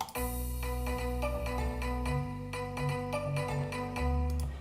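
Music track produced by SoundRaw's AI generator plays with the backing parts and drums removed, leaving sustained bass and melodic tones alone at a steady level for several seconds.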